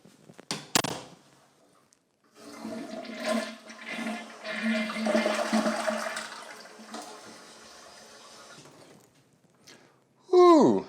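A Tushy Classic bidet toilet seat sprays water at full blast, a sustained hissing gush lasting several seconds after a couple of clicks, fading off before a brief vocal exclamation at the end.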